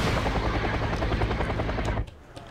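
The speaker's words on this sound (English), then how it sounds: "I'm going to need that chopper over here" Military helicopter in a Wargame Airland Battle combat scene, a loud steady rotor chop with pulsing blade beats for two seconds before cutting off abruptly into a quieter background.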